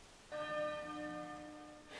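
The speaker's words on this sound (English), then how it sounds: "The bell rings. There's the bell again." A single bell in the Octopath Traveler 2 video game strikes once and rings out clearly, its bright tone holding and slowly decaying over about two seconds, with no voices.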